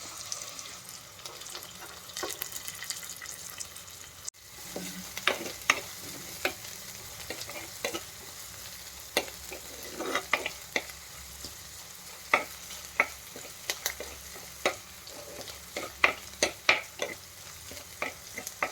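Crushed onion and ginger fry in a pan for a Kerala-style curry, with a constant sizzling hiss beneath frequent sharp scrapes and taps of a spoon stirring against the metal, growing busier toward the end.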